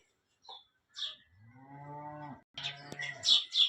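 Cows on a dairy farm in Nevasa give a long, clear moo at close range, with brief bird chirps before it and more chirping afterward.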